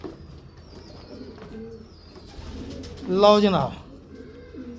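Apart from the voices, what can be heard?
Sialkoti pigeon cooing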